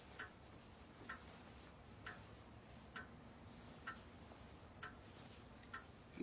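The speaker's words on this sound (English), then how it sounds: "Ask him how the grandfather clock works." A grandfather clock ticking steadily, about one tick per second, faint and evenly spaced in a quiet room with no talking.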